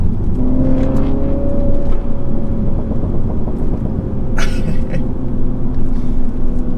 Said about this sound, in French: J'accélère un peu, 4000 tours, je lâche le pied.